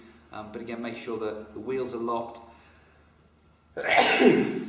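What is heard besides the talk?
sneeze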